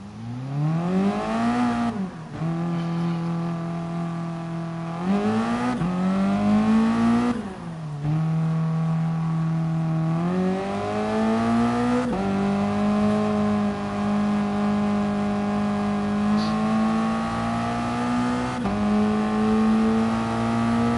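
A race car engine drones through an easy outlap at Brazil in a racing video game, revving loudly and steadily with repeated upshifts and brief lifts where the pitch drops before climbing again, alone with no voices.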